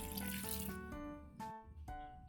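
Water poured into a pot while cooking tilapia in coconut milk: a quiet, continuous pouring splash broken into a few short bursts with brief pauses between, faint and alone.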